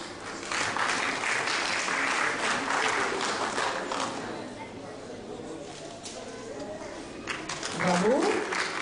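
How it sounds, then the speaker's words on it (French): Audience applause at a school end-of-year party, a broad wash of many hands clapping that fades somewhat midway and swells again, with voices and a faint bird-like coo near the end. "Les applaudissements deviennent de moins en moins chaleureux"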